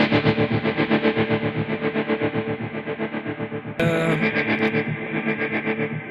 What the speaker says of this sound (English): And I came up with the tremolo. So this is the basic sound.